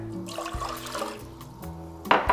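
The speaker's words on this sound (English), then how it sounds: "You're gonna pour two cups of water" Water poured into a cooking pot for Korean spicy chicken stew, a splashing, gurgling stream running a couple of seconds and growing louder near the end, with no talk over it.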